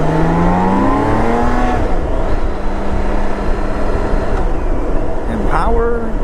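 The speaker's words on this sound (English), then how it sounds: "That 6-cylinder, man, that's just a sound you never get tired of" A six-cylinder GTL-E motorcycle engine runs steadily while riding, its smooth tone climbing and dropping in pitch through gear changes, loud and close under wind rush.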